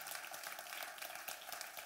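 A church congregation claps in a dense, continuous burst of applause, filling the brief moment without any talking.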